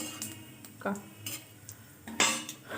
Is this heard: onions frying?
yes